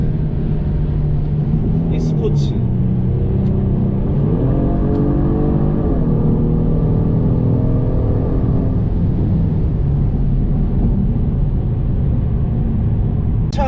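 Genesis G70 3.3-litre twin-turbo V6 in Sport Plus mode, a steady deep engine rumble that rises in pitch as it revs up, holds and settles, sustained throughout with a faint voice in the background.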